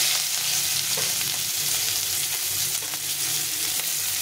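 Crushed garlic and a handful of onion fry in hot oil for a fish bhorta, giving a steady, close, even sizzle with no talking throughout.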